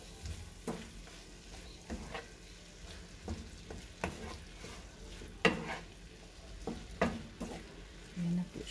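Pancit being stirred in a pan with oyster sauce: repeated scraping strokes of a utensil at an irregular rhythm over a low, steady sizzle, close and moderately quiet, with no talking.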